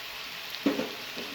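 Soy sauce goes into chicken fried rice frying in a pan, making one brief, soft splash of sizzle over a steady background hiss. It is close and short, with no voices.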